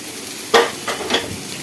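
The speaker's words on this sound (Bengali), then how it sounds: "দিয়ে এবারে এটাকে ভালো করে এই মশলাটার সাথে মিশিয়ে নেব।" Cooked potato and carrot being stirred through spices in a hot pan, giving a few short scraping, sizzling strokes close by, with no voices.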